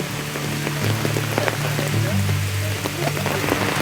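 Rain starts falling near an ancient cave site by a village, a steady patter of drops on surfaces with a low background hum running underneath.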